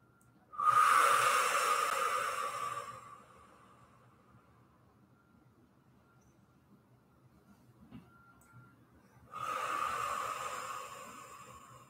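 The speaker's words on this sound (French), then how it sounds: "On respire profondément, des grandes inspirations par le nez. On expire longtemps par la bouche." Two long, deep breaths taken during a relaxing floor stretch for the hips and back, each a broad airy rush lasting a couple of seconds with a quiet pause between, close and soft, no voices.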